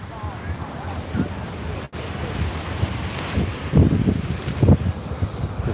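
Wind buffets the microphone on a beach at Da Nang, Vietnam, while surf washes in, with louder wave surges near the end.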